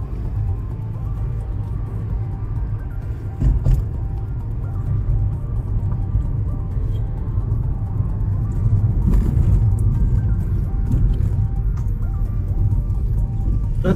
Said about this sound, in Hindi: यहाँ हम गाड़ी चला रहे